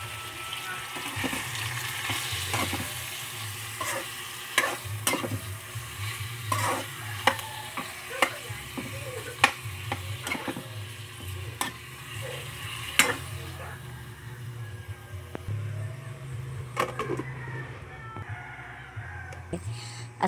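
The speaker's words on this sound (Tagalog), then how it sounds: "ilagay na natin yung pusit at saka halu-haluin at pakuluin ng konti" Squid for adobong pusit stirred and simmered in a pan with sautéed aromatics, giving repeated sharp scrapes and clicks of a utensil over a low steady bubbling for about twenty seconds, with faint background noise.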